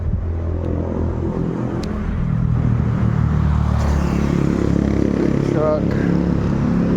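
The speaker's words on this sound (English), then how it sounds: "These trucks are going here non-stop." Trucks driving past on a road at night in Tomuan, Indonesia: a loud, continuous engine rumble that swells as a heavy vehicle passes close by, with a brief squeal near the end.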